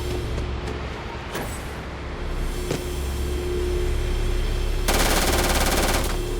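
Rapid automatic gunfire from the space game Starfield rattles out in a dense burst near the end, following a steady low ambient hum with a few isolated shots earlier.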